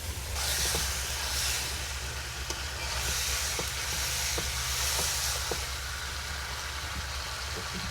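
Koral fish sautéing in a pan aboard a boat during a rainstorm: a steady, loud broadband sizzle and hiss continues throughout, with a deep rumbling drone beneath it and occasional faint clicks.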